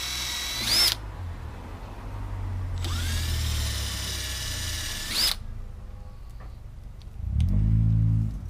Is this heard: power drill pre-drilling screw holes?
yes